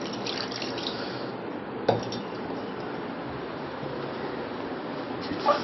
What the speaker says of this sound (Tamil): தண்ணி கொஞ்சம் சேர்த்துக்கிறேன்.